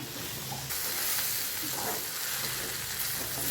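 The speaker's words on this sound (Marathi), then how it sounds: "थोडे शेंगा घालून घेऊया आणि शेंगा सर्व मिश्रण भाजून सरसर असं भाजून घेऊया" Sesame seeds and peanuts dry-roasting in a pan, giving a steady close crackling sizzle with light scraping as the mix is stirred, continuous throughout without talk.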